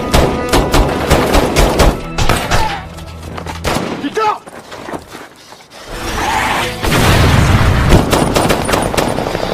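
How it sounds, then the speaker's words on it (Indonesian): Intense gunfire from a film scene of French special forces fighting terrorists during a hostage rescue, with loud rapid volleys, booms and a sustained heavy barrage toward the end. "Di tengah ramainya tembak-menembak, Amin berhasil ditembak oleh Zaid hingga tew"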